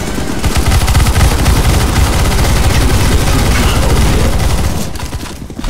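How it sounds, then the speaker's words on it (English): Loud, rapid automatic gunfire rattles almost without pause in a CS:GO Zombie Escape match, a dense barrage of overlapping shots that fades slightly near the end. "I'm gonna shoot this then."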